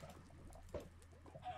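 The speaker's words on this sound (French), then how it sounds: "J'ai réussi à sauver un poulet." Video-game chickens cluck in short, faint bursts, with a couple of brighter squawks over a low background hum and no talk.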